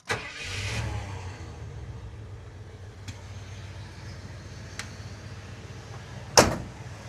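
A 1978 Ford F150 Supercab engine cranking and catching, then settling into a steady low idle, with a couple of faint clicks and a sharp knock near the end.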